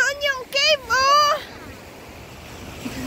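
Ocean waves wash onto a rocky shore by a cave near Tung Lung Fort, a steady, moderately loud broadband rush that follows a brief tonal voice-like sound at the start.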